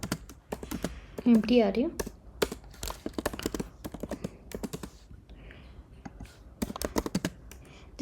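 Code typed on a computer keyboard in quick irregular bursts of close, crisp key clicks, broken by short pauses, while someone talks over the tapping.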